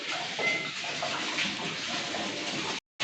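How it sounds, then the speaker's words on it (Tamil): Water from a can pours steadily into a large pot for mutton biryani, a continuous broadband splashing rush that stays loud and even for nearly three seconds before cutting off abruptly. "ரெண்டு கேன் ஊற்றியாச்சு மூணாவது கேன் ஊற்றுறாரு"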